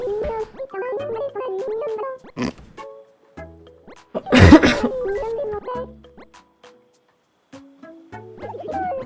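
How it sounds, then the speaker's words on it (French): Someone coughs and clears their throat in a harsh burst, surrounded by short vocal sounds and talking before and after. "C'est le soir, donc je tousse"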